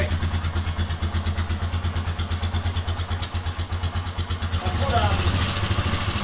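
A Polaris 500 snowmobile engine, just rebuilt after a barn find, idles steadily with a rapid even pulse, then revs slightly higher near the end, loud and close.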